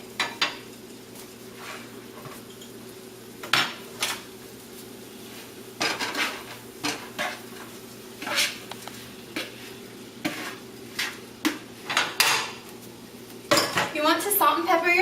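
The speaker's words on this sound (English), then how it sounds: "you're going to go ahead and add in your shrimp to saute" Shrimp sautéing with garlic in a pan, mostly heard as clanking of a utensil against the pan and cutlery clinks over a low steady hum, with a faint sizzle and a busier run of clatter near the end.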